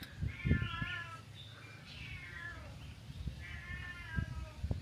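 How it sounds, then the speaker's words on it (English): A small cat meows several times outdoors at a quiet hilltop viewpoint in Thailand, each cry short and rising. The calls come in separate bursts against light background noise. "Oh, that's a cute little cat."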